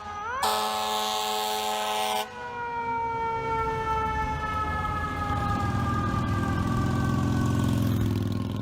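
A fire truck siren wails loudly in traffic with lights and sirens on, a rising and falling tone near the start, then a long steady descending wail over heavy engine rumble and road noise.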